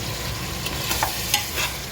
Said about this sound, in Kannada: ಈ ಮಸಾಲೆನ ಇದಕ್ಕೆ ಹಾಕ್ಕೊಂಡು ಇದು ಮಸಾಲೆ ಎಣ್ಣೆಯಲ್ಲಿ ಚೆನ್ನಾಗಿ ಫ್ರೈ ಆಗಬೇಕು